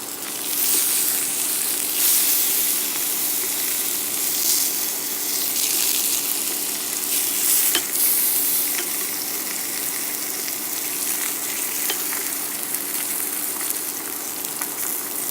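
Blackened Atlantic salmon fries in a hot, smoking pan with its spice crust, giving a steady close sizzle and crackle that continues without a break and with no one talking.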